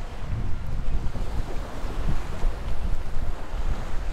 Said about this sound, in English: Wind's up. It's blowing 20 true.